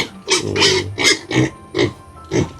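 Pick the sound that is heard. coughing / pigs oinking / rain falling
pigs oinking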